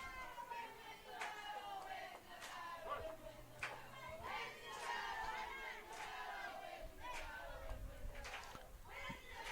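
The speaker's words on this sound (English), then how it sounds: "Dugout imploring the battle cheer for Vivian." Softball players in a dugout chant a rhythmic battle cheer for a teammate at a college game. Many voices sound together with repeated claps and shouts, somewhat distant and faint against crowd murmur.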